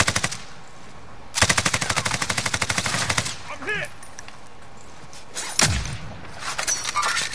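Rapid automatic gunfire from a PS4 shooter game rattles out in long loud bursts, broken by a few single heavy shots and short pauses.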